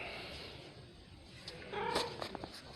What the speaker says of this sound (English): my kitty cat wants to hang out with us today